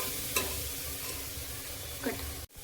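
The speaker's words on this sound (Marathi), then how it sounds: "1 मिनिटभर परतवायचं, म्हणजे हा कांदा छान वितळल्यासारखा होतो." Chopped onion sautéed and stirred in hot oil in a pan for a Marathi-style whole masoor dal, a steady close sizzle with a couple of brief scraping stirs, no talking.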